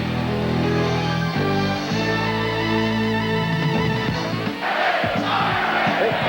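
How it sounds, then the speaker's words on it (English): A basketball arena crowd in 1993 chants in loud unison, the sustained rhythmic voices swelling and shifting pitch together before breaking into a rougher roar of cheering near the end. "now the crowd chanting Iron Man"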